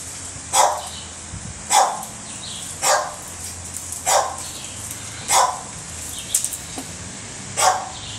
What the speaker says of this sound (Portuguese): Vamos ver a Filomena, ela tá latindo.